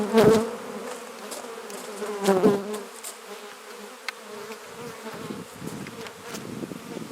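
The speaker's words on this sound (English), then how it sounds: "So we got the bees back together for right now." Dense, steady buzzing of many honey bees swarming close by around an opened hive, a continuous drone with a couple of louder bursts near the start.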